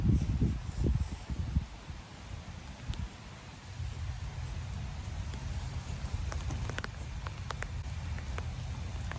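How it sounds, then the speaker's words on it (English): Rain falls outdoors on a Mississippi disc golf course as a faint, steady patter and hiss. It continues for several seconds with low rustling underneath and no one speaking. "here comes the rain, guys"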